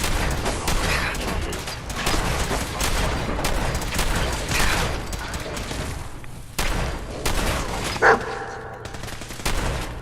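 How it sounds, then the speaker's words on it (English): Fallout 4 combat with a dense, continuous barrage of gunfire and booming blasts, one brief burst standing out near the end, loud and close throughout. "I thought that sounded like a frag."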